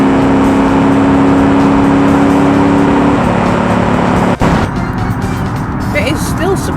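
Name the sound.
land yacht car accelerating in Automation video game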